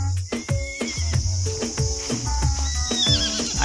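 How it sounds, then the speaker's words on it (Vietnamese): Two white horses outdoors in hilly countryside give whinnies over a steady high insect drone, with repeated low thumps of hooves and shifting weight close by. "Đây các bạn nhá, hai con ngựa này nhá."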